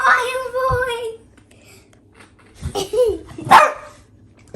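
A dog gives a few sharp, close barks in separate bursts, with a voice mimicking the barking between them.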